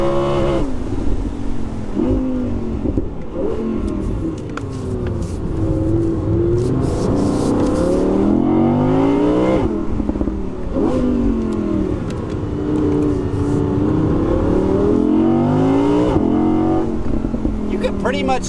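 An Audi R8 V10 Performance engine revs and accelerates repeatedly through gears on Alpine roads, rising whines climbing and dropping with each shift, heard from inside the car while someone talks over it.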